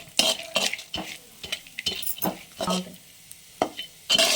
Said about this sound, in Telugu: సన్ఫ్లవర్ విత్తనాలు ఇవి కూడా నెయ్యిలో మనము దూరంగా వేయించుకుంటే